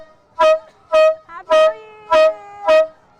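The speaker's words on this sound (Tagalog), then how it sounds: "meron din daw sila ng giant air horn na tulad nito na binobomba lang" A giant hand-pumped air horn blares in five loud, evenly spaced blasts, each a brassy tone lasting about half a second, with short pumping gaps between them.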